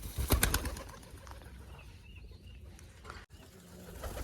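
A caught pigeon in a village setting gives a burst of close wing flapping, followed by faint cooing and low rustling against quiet background noise.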